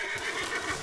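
A horse in the Red Dead Redemption 2 video game gives a loud, bright whinny lasting under a second, with faint hoof clops beneath it.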